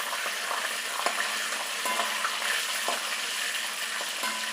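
Mustard seeds and spices splutter in hot oil in a pan as a tempering for a rice dish, a steady crackling sizzle punctuated by sharp popping ticks at irregular intervals.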